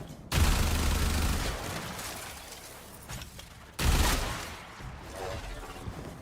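Two loud bursts of rapid automatic gunfire from a video-game weapon, each followed by a ringing, decaying tail and lower scattered noise.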